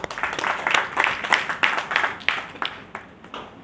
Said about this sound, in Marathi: तर आपणच आपल्यासाठी सर्वांनी टाळ्या वाजवा मग